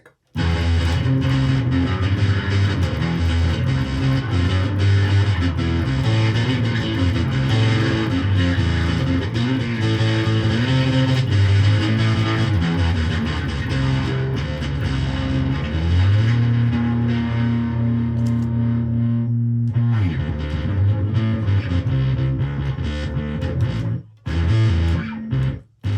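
Electric guitar played through a Boss DS-1 distortion pedal set for a gnarly, fuzz-like tone, heard as sustained, thick distorted chords and riffs ringing loud and continuous, cutting briefly near the end.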